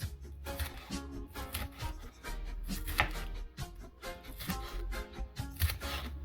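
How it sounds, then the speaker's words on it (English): A knife chops half a medium bell pepper on a board in quick, uneven taps, close and fairly quiet, with no one talking. "so let's cut up the peppers"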